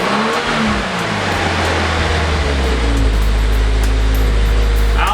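A 2022 Subaru WRX with a JB4 tuner revs toward redline, the engine note climbing steadily and loud from close by for a few seconds.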